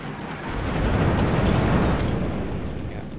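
A cannon artillery attack with 70 cannons in the strategy video game Colonies at War (Russia, 1935 scenario): a dense, continuous roar of blasts and rumbling explosions, loud and sustained for about three seconds.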